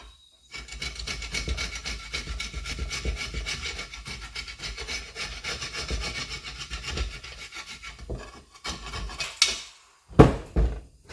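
A hand scraper made from a brazed lathe cutting tool rasps steadily against metal in continuous close scraping strokes, with a few sharper scrapes near the end and no talk.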